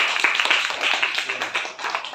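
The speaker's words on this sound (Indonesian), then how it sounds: "tepuk tangan untuk." Students in a classroom clapping their hands together, a close, brisk burst of many overlapping claps at a lively uneven rhythm, fairly loud and without talk over it.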